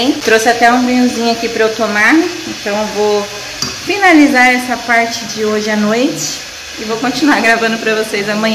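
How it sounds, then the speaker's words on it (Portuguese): Chicken frying in a pan at home while dinner is cooked, giving a steady hissing sizzle that runs under continuous nearby talking throughout. "desculpa o barulho ali, tô fritando um frango."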